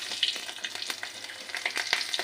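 Black cumin seeds and two green chillies sizzle in hot oil in a kadai, a crackling hiss broken by sharp pops and spatter.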